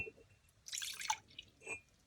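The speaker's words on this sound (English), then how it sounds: "In this case, instead of water, I will just add coffee." Coffee poured onto napkin and tissue paper as a glue-and-coffee texture mix, heard as a few faint close splashy drips and dribbles in a quiet room.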